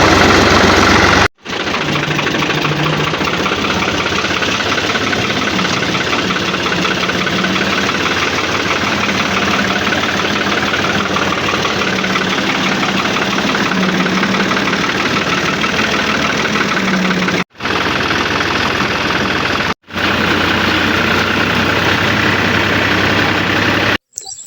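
Tractor engine idling nearby, a loud continuous knocking rumble that is briefly cut three times, with no talking over it.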